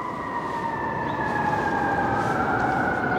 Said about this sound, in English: Can you hear the siren? There's a siren.